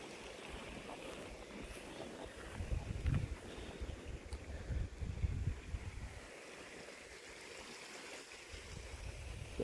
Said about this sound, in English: This is actually flowing. This is the creek here.